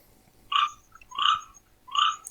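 A toad calls in three separate rasping bursts, each about a third of a second long and spaced evenly apart, moderately loud and close, with only quiet background between the calls.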